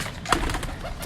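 Pigeons kept by a bird seller give soft, low cooing, faint and brief, with a slight rustle around them.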